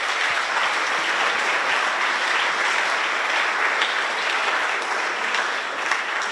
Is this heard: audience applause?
yes